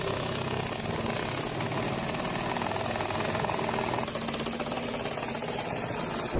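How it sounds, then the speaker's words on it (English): An air jackhammer works without pause, giving a loud, continuous rattling roar that stays steady from start to finish. "Check out the air jackhammer in action."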